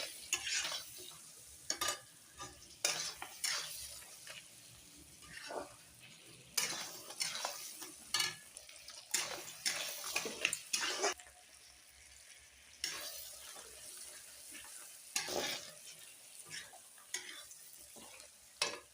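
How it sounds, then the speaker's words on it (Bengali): Fish sautés in oil in a pan while being stirred: soft sizzling sits under repeated scraping and clattering strokes that come in irregular bursts, fairly quiet overall. "একটু কাঁচা তেল ছড়িয়ে দিচ্ছি উপর থেকে, আবার নেড়ে দিলাম ভালো করে।"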